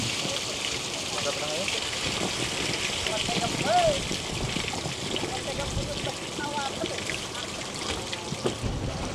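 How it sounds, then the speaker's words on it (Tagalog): Heavy rain pouring down at a large vannamei shrimp farm during a harvest, a dense, steady hiss of drops with splashing water and trickling, continuous and fairly close, with voices talking over it. "Bumubuhos na ang ulan"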